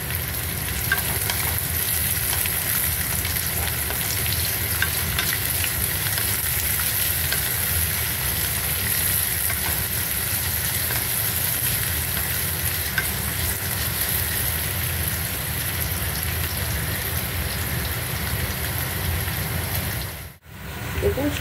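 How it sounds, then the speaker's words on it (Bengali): Carrots and beans frying in a pan, a loud, steady, dense sizzle that continues almost unchanged throughout and cuts off briefly near the end. "দেখুন সবজিগুলো ভাজা হয়ে এসছে"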